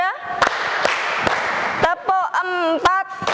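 A classroom group plays a counting clapping game, sharp synchronized claps ringing out in a rhythmic sequence between a teacher's sung-out calls.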